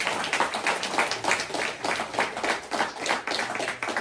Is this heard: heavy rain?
no